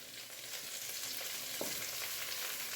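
Tomato added to karela chana dal frying in a pan: a dense, continuous sizzle heard up close, with a faint stir partway through and no talking.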